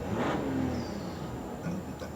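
A 2018 Ram Laramie diesel engine revs up from idle, a steady mid-pitched mechanical whir that rises and holds, heard close by with no talking.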